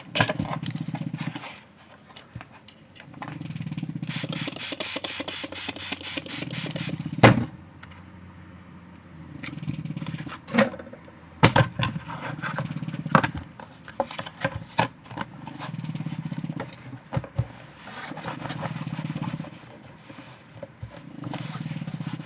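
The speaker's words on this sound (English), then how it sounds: "That's Coda doing his motorcycle snore." Loud, rhythmic rumbling dog snores repeat in long breaths, close by, with a few sharp clicks and knocks mixed in.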